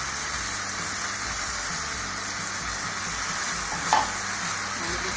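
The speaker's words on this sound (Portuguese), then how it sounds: "Vamos misturar. E vamos refogar bem agora com esse tomate." Minced meat and chopped tomato are stirred and sautéed in a hot pan for a bread stuffed with meat and cheese, giving a steady close sizzle with one brief scrape of the spoon near the end.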